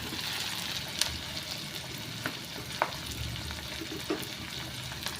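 Fried catfish goes into a pot of miso sinigang, with a steady broad hiss of simmering and a few sharp clinks and splashes as pieces drop in, alone without talk.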